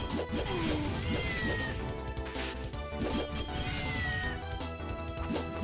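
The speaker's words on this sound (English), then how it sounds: "I hear a kitty." Cat meows inside the video game Castlevania: Order of Ecclesia, a few short mewing calls rising over steady game music and effects.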